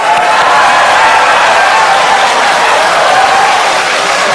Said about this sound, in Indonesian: kalau ada yang mau tepuk tangan silahkan.